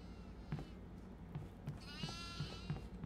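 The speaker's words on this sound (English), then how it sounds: "I let the goats out." Short goat bleats from the video game Devour repeat several times over a low steady hum, with a brief game-like sound in the middle.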